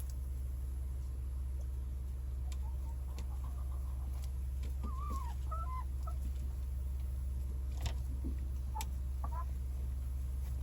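Chickens cluck a few times, faint and distant, over a steady loud low rumble like an idling engine, with occasional soft clicks and no talking.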